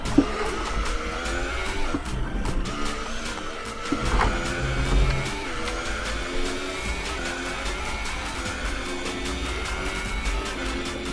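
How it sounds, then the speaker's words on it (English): An F1 car in F1 2018 howls through gear changes under hard braking, tires squealing as the engine pitch sweeps down and up, loud and continuous with no talking. "Hard on the brakes."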